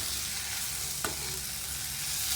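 Brinjal sautéing in a pan, with a steady close hiss of frying throughout and a single brief utensil tap near the middle, no voices.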